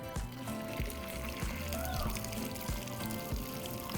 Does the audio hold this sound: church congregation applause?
no